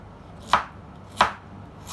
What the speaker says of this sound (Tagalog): Hiwa-hiwain lang natin ng maliliit para